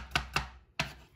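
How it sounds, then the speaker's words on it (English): A knife chopping garlic on a board gives three sharp, close knocks in an uneven rhythm, two quick ones and then a pause before the last, with no talk over them. "I'm going to chop the garlic like so."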